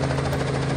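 A steady, droning helicopter with a low rotor hum and engine whine, constant and fairly loud throughout, with no other sounds.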